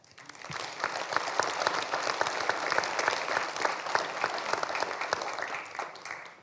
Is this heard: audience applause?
yes